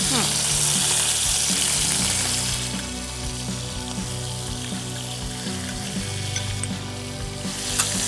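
Chicken pieces frying with spices in a pan for a Bengali turnip chicken dish give off a steady, close sizzle, loudest in the first seconds and then settling slightly, with faint stirring scrapes and no talking.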